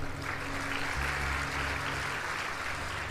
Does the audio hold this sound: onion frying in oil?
no